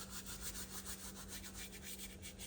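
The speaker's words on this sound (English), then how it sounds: "just rub it with both your hands" Dried leaves crushed and rubbed between both hands while cooking paneer makhani, a soft close rhythmic rustling that continues steadily and faintly throughout.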